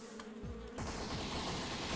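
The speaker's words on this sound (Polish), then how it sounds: "Tutaj widzę, że zostałem zaatakowany przez osy." A swarm of wasps attacking the player in Postal 3, a dense buzzing drone that swells and becomes constant and close, with no talk.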